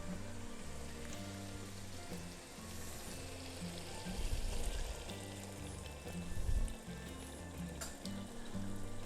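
Chicken karahi sizzling hard in a hot pan as yogurt goes in, a steady dense frying crackle with a few louder bursts of spitting, close and continuous with no talk.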